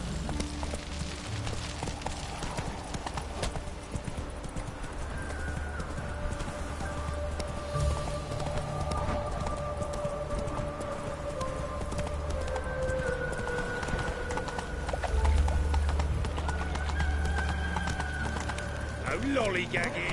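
A horse in The Witcher 3 gallops with a steady, rhythmic clip-clop of hooves, running under sustained musical tones and voices talking throughout.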